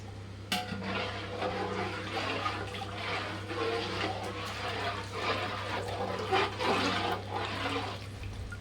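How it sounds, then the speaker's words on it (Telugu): Water poured steadily into a pot of rice for festive mutton biryani, a continuous splashing, gushing stream with some pot clatter, fairly quiet and close, lasting several seconds without talk. "ఇప్పుడు వాటర్ పోసుకోవాలి."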